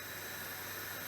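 Beef sizzles steadily in a hot pan for chilli con carne, a constant close hiss with no other sounds.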